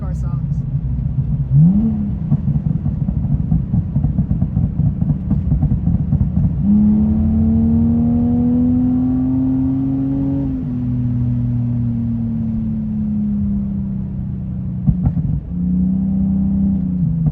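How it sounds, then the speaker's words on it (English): A BMW E46 fitted with an open-to-limited-slip differential kit revs loudly and close by, its engine note climbing steadily before dropping back to a deep, steady drone, with a brief blip near the end. "This car sounds so good, man. I love how this car sounds."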